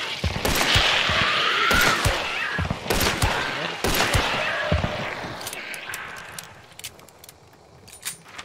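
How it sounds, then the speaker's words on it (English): Shots trade back and forth from a window in the video game Bayou Blitz, with loud sharp cracks and bursts for several seconds, then sparser, fainter pops toward the end. "I was just exchanging shots from the window."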